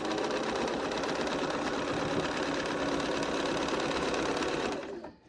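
A sewing machine stitching quilt strips together to the seam, a fast continuous mechanical whir that runs steadily for several seconds, then stops abruptly.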